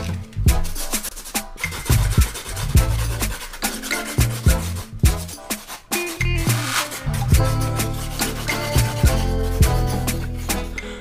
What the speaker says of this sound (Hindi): आप चलिए एक सैंड पेपर की मदद से इसको थोड़ा सा घिस के स्मूथ कर देते हैं।